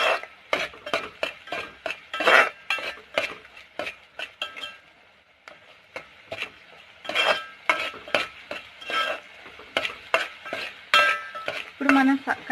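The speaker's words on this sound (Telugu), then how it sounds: "దీన్ని బాగా వేయించుకోవాలండి, కలుపుకోవాలి." Mutton curry with salt and chili is stirred and fried in a pan: a spoon scrapes and clinks against the metal in quick, irregular bursts, with a light sizzle between strokes.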